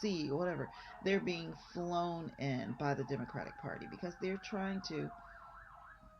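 Someone talks continuously while a wailing siren rises and falls in the background, drifting in and out under his voice.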